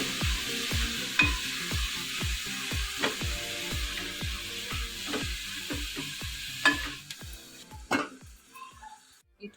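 Oil sizzles steadily in a pan as food is fried and stirred for a Kannada-style dantina soppu (amaranth stem greens) majjige saaru, with regular scraping strokes of the spoon repeating throughout, close and moderately loud, no voices.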